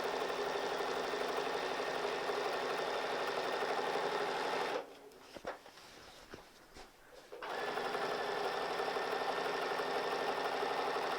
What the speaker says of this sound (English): So I'm just going to start stitching right on the chevron line I drew.